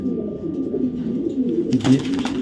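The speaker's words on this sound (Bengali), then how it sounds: "সত্যি অসাধারণ দুটা বাচ্চা কবুতর দেখার মতো" Racing pigeons, young birds and a red checker pair, coo in soft repeated low murmurs close by, with a brief rustle of handling near the end.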